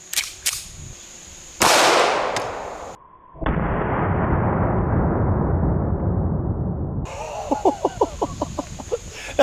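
A Smith & Wesson 1911 TA pistol fires a single .45 ACP 230-grain full metal jacket round outdoors, a sharp loud crack followed by a long decaying rumble, with a few faint clicks and rustles around it.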